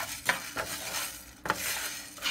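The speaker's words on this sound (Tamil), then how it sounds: "இப்போ அடுத்து நம்ம கொத்தமல்லியை ட்ரை ரோஸ்ட் பண்ணலாம்." Coriander seeds dry roasting in a pan for rasam powder, with a few spatula scrapes and stirs over a soft, continuous rustling background.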